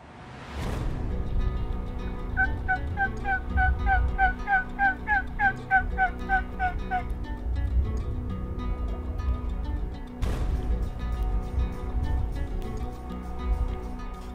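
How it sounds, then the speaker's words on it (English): Wild Merriam's turkey gobbler calling during a spring mountain hunt, a rapid rattling gobble repeated in quick bursts at moderate distance, followed by a couple of loud nearby knocks over a quiet outdoor background. "we finally got a gobbler sounding off"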